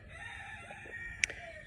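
A rooster crows faintly in the distance on a 10-acre homestead with meat chickens, a single drawn-out call with a brief louder squawk near the end over quiet outdoor background.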